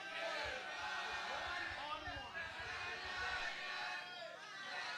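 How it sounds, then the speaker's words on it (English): A wrestling-event crowd roars in a dense, continuous wash of voices and shouts, loud and close throughout with overlapping yells rising and falling. "And you hear the crowd."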